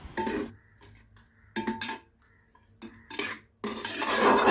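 Duck curry being mixed in a pot gives scraping and clinking bursts of a spoon against metal. Four separate close strokes come with short pauses between them, and the last one runs longer and fuller.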